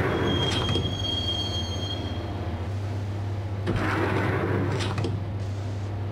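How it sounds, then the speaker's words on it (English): A subway train ride in the video game Max Payne, heading to Roscoe Street Station: a steady rumble of rolling wheels with a high metallic squeal and periodic bursts of rushing rattle, continuous and loud throughout. "the train doors had already shut behind me, and I was in for the ride"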